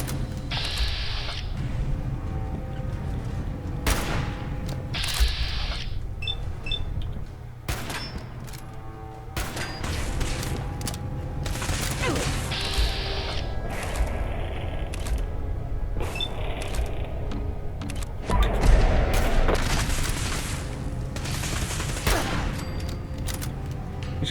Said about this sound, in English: Her laser pistol is awesome.